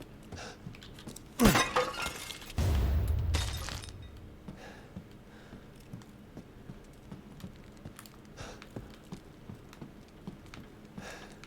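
An object loudly shatters and breaks in Resident Evil Village, inside Castle Dimitrescu, with a sharp crash followed by a heavier crunching burst. Scattered light clicks and patter continue quietly afterward.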